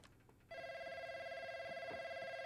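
A telephone bell rings in a Call of Duty Modern Warfare Warzone match, starting half a second in with a steady, loud electronic trill that continues to the end over faint game background noise.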